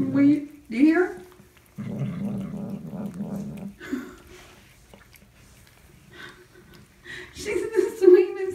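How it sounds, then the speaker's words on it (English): A tame, friendly kitten growls in low rumbling bursts close by, mixed with someone talking over and between the growls. "She's the sweetest thing, but she growls constantly"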